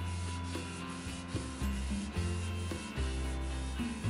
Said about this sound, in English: you can simply sand the frame with 150 grit sandpaper and then 220 grit sandpaper to create a smooth finish